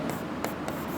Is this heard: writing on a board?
yes